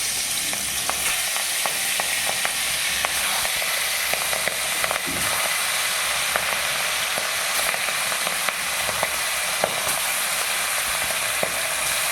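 Oil sizzles in a hot kadai on a gas stove: a steady, close frying hiss with scattered sharp crackles and pops runs throughout, with no voices.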